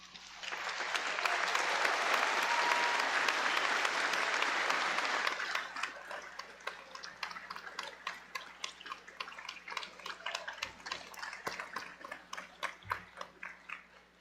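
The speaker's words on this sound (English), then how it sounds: "I'd like to ask the graduates to stand and provide a round of applause for those who've supported them" A commencement audience at New York Medical College's medical school ceremony applauds graduates' supporters, a sustained round of clapping that swells, holds steady, then thins into scattered individual claps as it fades.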